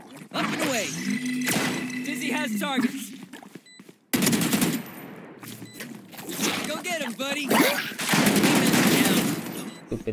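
Bursts of rapid gunfire in a Valorant match, loud and close, recurring in clusters between stretches of quieter game sound, with voices talking over parts of it.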